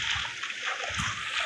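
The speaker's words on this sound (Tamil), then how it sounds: "அடுத்தது வாட்டர் இப்படி ஊற்றணும்" Water poured in Minecraft while building an iron farm, a brief soft splashing and trickling sound that runs steadily for about a second and a half.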